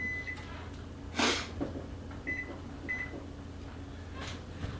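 Short, bright electronic beeps from an oven's control panel while the temperature is set, three or four separate tones spaced over a few seconds against a quiet kitchen background with a soft thump.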